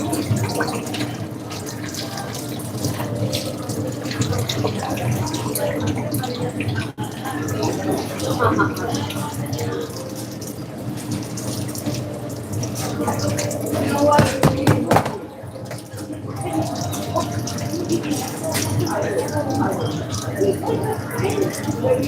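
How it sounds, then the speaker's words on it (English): Water runs and splashes steadily as excess water is drained off in a busy work kitchen, a continuous tap-like rush with clatter, close and fairly loud throughout. "let's drain off the excess water"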